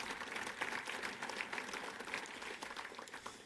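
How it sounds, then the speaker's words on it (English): Members at a Saskatchewan NDP party gathering applaud in a steady, dense wash of clapping that holds at an even level throughout, with no voices above it. "Let's give all the members, give yourselves a round of applause."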